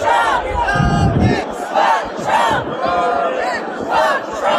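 Large arena crowd at the NBA Finals roaring against Donald Trump in rhythmic waves, loud and sustained, sounding like a chanted battle cry that swells and dips every second or so.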